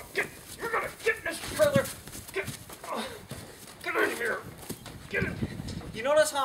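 A horse's hooves clatter and thud irregularly on the hollow floor of a horse trailer during loading while a person talks urgently over them.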